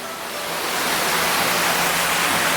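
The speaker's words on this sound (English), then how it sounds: "so now we are going to go up, and so we are halfway behind the waterfall" Loud, steady roar of a waterfall heard from halfway behind it, a dense broadband wash that swells slightly and stays constant, close by.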